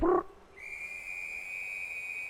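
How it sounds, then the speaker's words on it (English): A single sustained, shrill whistle blast holds steady for about two seconds after a brief low sound. "Referee blows the whistle."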